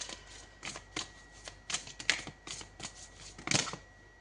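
Tarot cards are shuffled and drawn by hand, giving a run of soft, close riffling slaps and papery flicks at an uneven rhythm with no voices.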